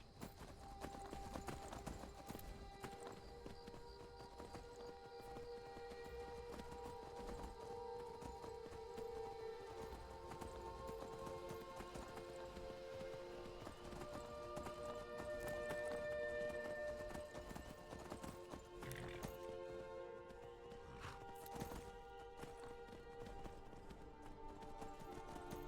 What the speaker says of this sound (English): Peaceful horse ride at night.